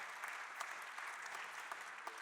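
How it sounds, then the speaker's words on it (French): An audience at a round-table discussion on family businesses applauds a guest, quiet and distant, steady clapping with a few sharper claps standing out. "on peut applaudir aussi"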